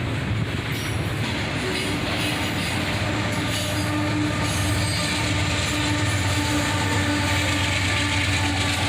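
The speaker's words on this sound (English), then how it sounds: "we'd catch this autorack train with a single locomotive on the head end" An autorack freight train led by a single locomotive rolls steadily past, a continuous loud rumble of wagons on the rails with metallic wheel squeal ringing over it throughout.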